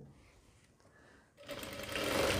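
After a quiet moment, a sewing machine starts stitching heavy-size pant fabric, its rapid whirring rattle rising quickly and growing louder up close.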